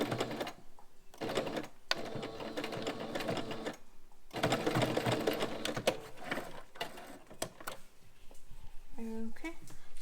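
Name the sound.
sewing machine stitching and back-stitching a face mask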